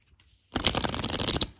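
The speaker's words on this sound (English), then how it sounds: "All right, I'm going to give it another good shuffle." A deck of tarot cards gets a brisk riffle shuffle, starting abruptly after a short quiet pause and running as a dense, close, steady flutter for about a second before stopping.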